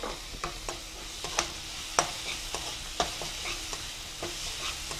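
Chopped tomatoes frying and sizzling in a pan for a South Indian chana masala (sundal) gravy, with a steady close sizzle broken by repeated sharp scrapes and clacks of a spoon stirring the pan; no voices.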